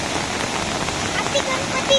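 A river at Barahali, swollen into flood after torrential rain, rushes past as a dense, steady roar of churning water, continuous and close with no pauses.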